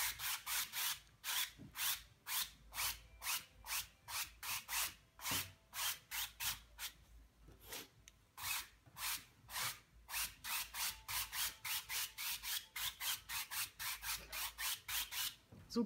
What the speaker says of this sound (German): Wichtigstes Werkzeug, der Pinsel immer trocken und die Farbe verteilen